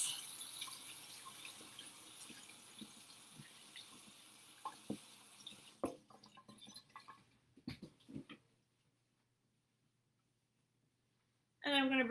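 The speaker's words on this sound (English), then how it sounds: "I'm going to wash my hands." Kitchen tap runs while hands are washed after baking sugar cookies: a soft, steady flow of water with splashing and a few louder bumps. It stops abruptly partway through and silence follows, then a brief sound at the very end.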